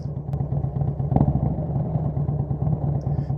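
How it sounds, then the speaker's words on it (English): A group of motorcycles sits idling together at an early-morning roadside start before a Mt. Lemmon ride, giving a steady low rumbling drone with a faint clatter, close and continuous, with no voices. "the engines are rumbling"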